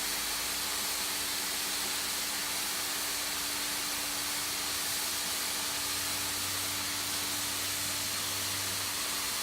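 A hot air plastic welder blows a loud, steady broadband hiss while melting a crack in a kayak, constant from start to finish with a faint low hum beneath it.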